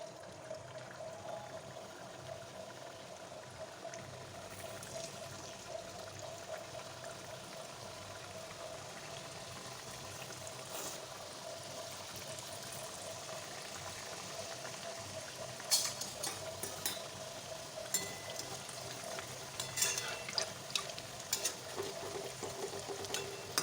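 Semolina gujiya dumplings frying in hot oil, a steady faint bubbling hiss that carries on throughout, with a few brighter crackles and pops near the end.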